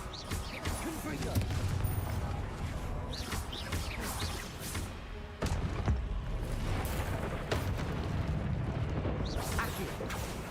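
Confringo explosive spells are cast in Hogwarts Legacy: a run of bursting, crackling blasts and booms repeats over continuous game noise, with a voice shouting over it.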